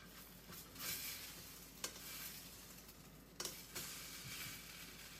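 A grilled cheese sandwich frying in a pan, a quiet continuous sizzle broken by a few short scrapes and taps as a spatula presses down on it.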